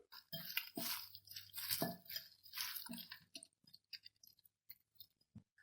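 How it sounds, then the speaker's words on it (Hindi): Spiced chicken marinade for biryani is mixed by hand, with wet squelching and squishing pulses close up, heavy at first and then thinning into sparse soft squishes and clicks. "अब हाथों की मदद से हम मिक्स करेंगे।"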